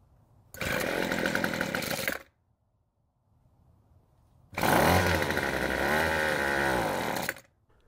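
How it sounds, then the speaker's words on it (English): A petrol string trimmer's small two-stroke engine roars to life at high revs for about two seconds, cuts out, then restarts loudly at half choke and runs briefly before dying again. "this time it started in the half choke position, but the engine still died."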